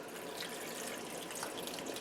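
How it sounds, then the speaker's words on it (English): Homemade broth poured into canning jars packed with old laying hen meat, a steady continuous trickle and splash of liquid heard up close with no talking. "pour in the broth"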